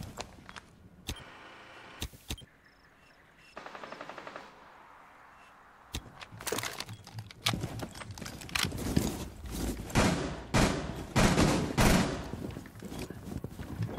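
Gunfire in Rainbow Six Siege: a few isolated shots early on, then a long stretch of loud, rapid bursts and repeated shots that grow denser and more intense toward the end.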